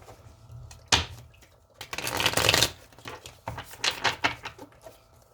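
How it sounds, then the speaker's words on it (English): Tarot card decks are riffled and shuffled in several brisk bursts with short pauses between, close and fairly quiet, with no talking. "continue to shuffle all these decks and then we will begin."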